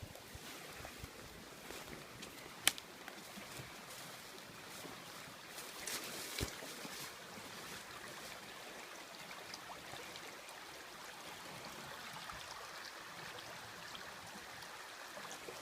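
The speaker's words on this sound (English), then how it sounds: "Listen to that rapid water." A fast-flowing river beside an island hammock campsite rushes as a constant, faint wash of broadband noise, steady throughout with a couple of brief clicks and knocks and no voices.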